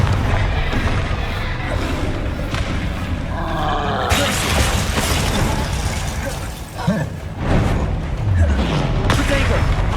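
Blasting-spell explosions in the Hogwarts Legacy video game, loud bursts and booms amid dense combat noise and music, with a voice shouting spell names over the action.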